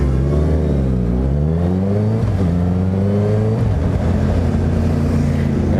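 A Suzuki GSX motorcycle engine running close by, loud and continuous, its droning exhaust note rising and falling as the revs shift; no speech.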